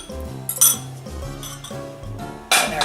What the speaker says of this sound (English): Then I'm going to beat the egg a little bit, lightly, just lightly